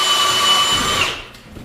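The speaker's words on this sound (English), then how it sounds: "See how shallow I'm drilling?" A power drill bores shallow holes, whining steadily and loudly for about a second before cutting off, leaving faint knocks and rustles.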